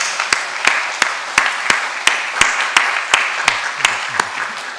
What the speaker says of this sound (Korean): 우리 따뜻한 박수로 환영을 하겠습니다.